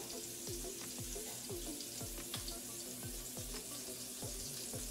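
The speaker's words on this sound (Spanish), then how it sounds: "Al mismo tiempo se van friendo y se van cociendo." Food fries in a pan, a faint, steady sizzle with a rhythmic undertone of repeated soft ticks throughout, quiet and without speech.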